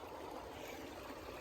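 Fast-moving stream water rushing in an ice cave, a steady, dense broadband wash with no breaks, heard alone and fairly close.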